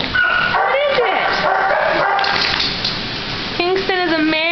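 A male lab pit cross dog at an animal shelter whimpers and yips in high, wavering whines close by, ending in a short bark-like yelp, while a person talks over it.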